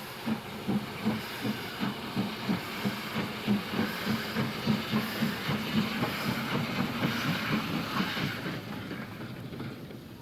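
A Hartmann 2-8-2 steam locomotive working in Syria chuffs in a steady, fast exhaust rhythm with strong hissing steam, loud and close, the beats fading slightly toward the end.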